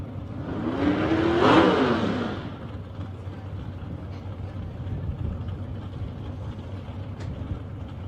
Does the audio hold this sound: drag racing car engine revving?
yes